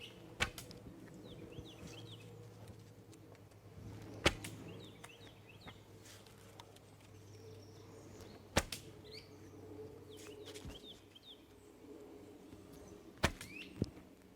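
A hunting bow is loosed several times in woodland, each shot a sharp, brief snap spaced a few seconds apart over quiet outdoor ambience with faint birdsong and a low hum.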